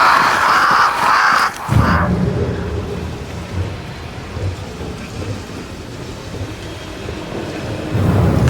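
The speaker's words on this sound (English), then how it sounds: "Crows. They flock to that great tree up there." Crows caw in the video game Banishers: Ghosts of New Eden, flocking around a great tree. Their calls ring out against a loud, steady wash of rain with thunder-like rumble.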